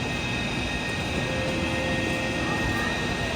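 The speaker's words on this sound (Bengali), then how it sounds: "কারণ একটা ট্রেন আসছে।" A train pulls into a German railway station, a loud, steady broadband rumble and roar with a faint tonal whine, filling the whole moment without letting up.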